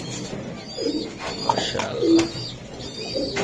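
Racing pigeons coo softly in short, low bursts close by, mixed with faint chirps and light rustling while someone speaks briefly.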